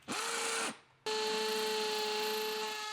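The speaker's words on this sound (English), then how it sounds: "You can really tell it's a lot faster drilling those holes with that drill in high." A power drill running in high gear bores holes in wood while building an 8x6 backyard shed, giving a loud steady whine that stops briefly and then restarts for a longer continuous run.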